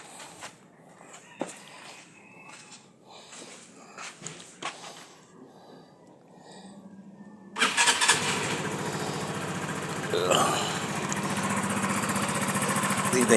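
A Kawasaki ER150FI motorcycle starts up after some footsteps and light handling noises, then settles into a steady close idle that grows slightly louder.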